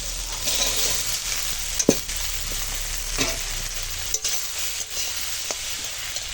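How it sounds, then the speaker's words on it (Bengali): Onion, diced potato and mixed vegetables fry together in a pan with salt, giving a steady broad sizzle with occasional stirring scrapes and clinks throughout. "এটা তিন রকম সবজি একসঙ্গে ভাজবো"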